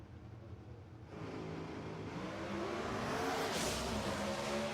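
Pro Stock drag racing car launching down the track at the New England Nationals, a fairly distant engine roar that swells after a second and holds steady and loud as the car pulls away.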